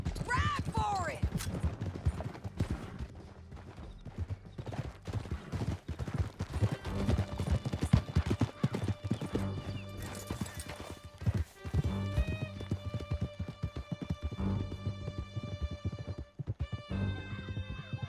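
Horses gallop in Red Dead Redemption II, steady hoofbeats clattering through a canyon escape with an occasional whinny, gunshots and music building beneath, and voices calling out over the ride.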